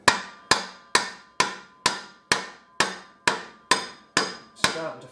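A copper bar is hammered against the end of a Harley Davidson Deuce axle. Eleven sharp metallic blows ring out close and loud at a steady rhythm of about two per second, each decaying briefly before the next.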